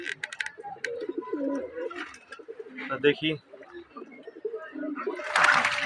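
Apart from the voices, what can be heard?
pigeons bathing and cooing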